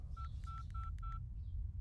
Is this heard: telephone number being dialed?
yes